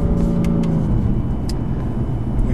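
BMW M3/M4 (2015) engine on track at Road America, a loud steady drone with rising harmonics as the car accelerates through a bend, close and continuous with no talk.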